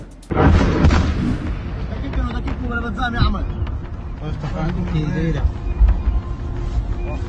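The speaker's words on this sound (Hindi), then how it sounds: "बगदाद में अमेरिकी बेस पर ईरान के समर्थक लड़ाकों ने क्लस्टर मिसाइलें दागी हैं।" Cluster missiles strike a US base in Baghdad: a sudden loud blast opens a stretch of rumbling, crackling bursts and pops, with voices shouting throughout.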